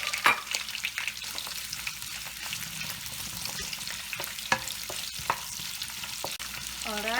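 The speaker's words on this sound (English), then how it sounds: "So now I'm ready to stir fry the onion first." Onion stir-fried in about a third of a cup of hot olive oil, a continuous close sizzle broken by repeated scraping and tapping of the utensil against the pan, with no talking.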